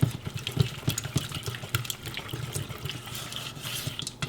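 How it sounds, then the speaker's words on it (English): Keto brownie batter is stirred by hand in a bowl, giving a continuous wet, sticky scraping and slapping with small irregular clicks. The sound is close and moderately loud. "More stirring."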